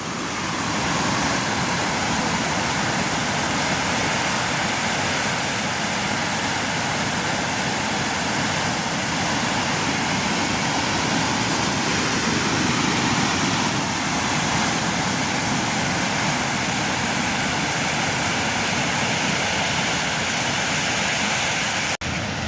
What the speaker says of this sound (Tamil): என்ன மாதிரி தண்ணி அரிச்சு பாஞ்சிருக்காண்டு பாருங்கள்